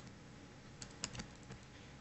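A short run of keystrokes on a computer keyboard entering a Linux apt-cache command, soft close clicking with one sharper tap midway, over steady background hiss.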